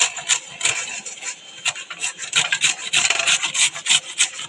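Raw mango is rubbed on a hand grater in a kitchen, producing quick, close, steady rasping strokes in an even rhythm, with no talking.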